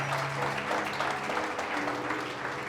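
A church congregation claps together, dense continuous applause filling the hall at close range for the whole stretch, with faint voices underneath.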